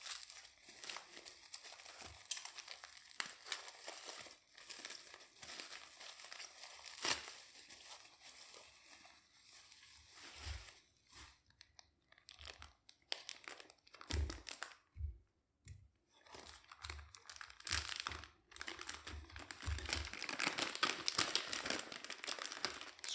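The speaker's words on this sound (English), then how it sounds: "just going to chew my way through the packaging" Plastic packaging for a Game Boy replacement screen crinkles and tears at close range, with irregular bursts of rustling, ripping and clicking and a few low thumps over about twenty seconds, no talking.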